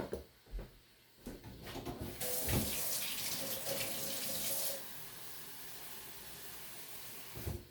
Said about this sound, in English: So we'll run it on the cold water and we'll let it set aside.